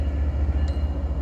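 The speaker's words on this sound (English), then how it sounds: "Oh, here comes the train." A container train rolls past with a low, steady rumble, moderately loud and unbroken, with no voices over it.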